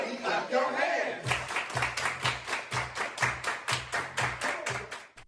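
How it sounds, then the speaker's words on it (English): Campers at a dance party clap in a steady, even rhythm during a line dance, a series of crisp group claps over music after a noisy, chattering start. "Everybody clap your hands."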